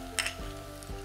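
Chopped garlic and ginger hit a pan of softening onions cooking on high heat, giving a brief faint sizzle with a couple of quick soft clatters over a low steady frying hiss.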